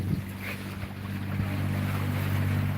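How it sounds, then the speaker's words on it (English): Water rushing steadily beneath and between the twin hulls of a catamaran on the Indian Ocean, a constant low wash mixed with wind buffeting the microphone and no voices. "Water going under the hull, between the two hulls."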